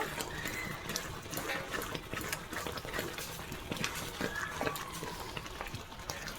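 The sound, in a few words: stirring boiled dal (lentils) in a pot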